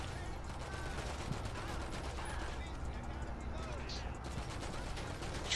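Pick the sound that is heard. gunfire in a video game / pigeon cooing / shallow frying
gunfire in a video game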